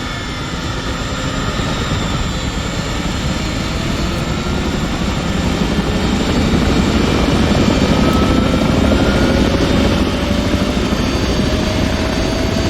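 Military helicopters of the 160th SOAR spool their engines up for flight during a Ranger field exercise, a loud steady turbine roar with rising whine that builds and holds throughout.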